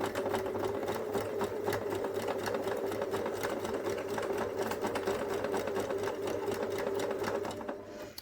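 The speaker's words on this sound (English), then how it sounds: "I'm just going to keep going with my line of stitching just past where the beginning of my stitches were." Sewing machine stitching a seam around the arm of a fabric memory bear, a steady, close whir of rapid needle strokes running continuously before easing off at the very end.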